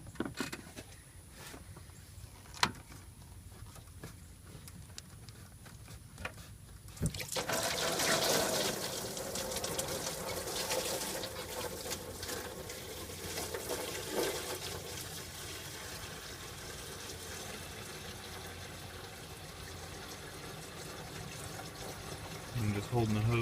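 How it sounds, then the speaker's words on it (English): Coolant drains from a loosened hose into a pan on a 2003 Suburban during a thermostat job, a steady close splashing pour that starts abruptly after some faint handling sounds and runs on continuously. "I'm just holding the hose to where it drains in the pan."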